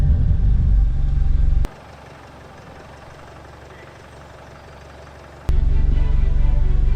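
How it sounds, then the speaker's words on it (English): A repaired Jaguar XF rumbles loudly at close range, cuts to a quieter low hum for several seconds, then returns to the heavy engine rumble. "The Jaguar is driving."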